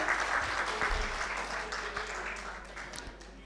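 An audience at a Hindi/Urdu poetry recital gives a round of applause: a steady, full wash of clapping that starts strong and gradually thins toward the end.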